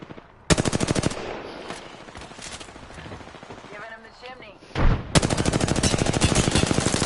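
A gun fires in Apex Legends as rapid automatic bursts, two loud sustained sprays of shots separated by a quieter gap where someone talks over faint background game sound.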